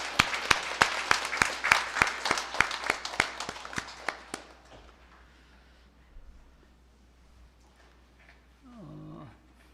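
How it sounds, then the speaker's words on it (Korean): A church congregation claps in a burst of applause after a choir performance, building and then fading out over several seconds, followed by quiet room noise. "우리 박수하겠습니다."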